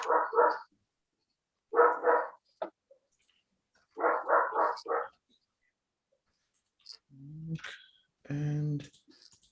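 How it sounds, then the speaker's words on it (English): A dog barks in three quick clusters of sharp, fairly close barks, then goes quiet before a short stretch of voices or whining near the end. "who is this dog?"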